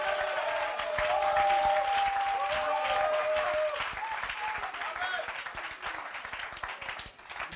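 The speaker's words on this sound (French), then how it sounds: "Ça mérite une acclamation, hein?" Applause and cheering rise from a church congregation during a French-language sermon on the gifts of the Spirit, a dense, loud wash of clapping with voices mixed in that slowly thins out.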